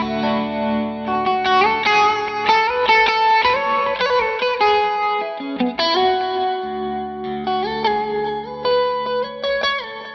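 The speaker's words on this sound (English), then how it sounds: "I actually love playing with the Strat through a nice clean sound" Electric guitar notes and chords from a Stratocaster ring out through a Victory V40 Deluxe amp on a clean tone, sustained and layered with a shimmering effect, played alone without voices.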